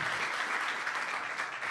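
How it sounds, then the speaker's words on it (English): A conference audience gives a speaker a round of applause, a steady, even wash of many hands clapping, moderately quiet and heard from a distance. "Let's give him a round of applause."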